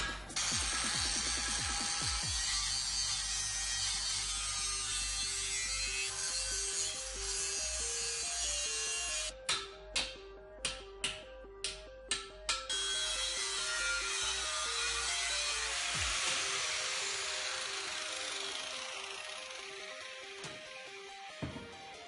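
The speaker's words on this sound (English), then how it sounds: "we're going to go ahead and just use our cutoff wheel again" A cutoff wheel slices the chain guard off a Kawasaki KX65 dirt bike frame and swing arm, giving a steady, harsh grinding whine with a run of short sharp pulses midway before easing off. No one speaks.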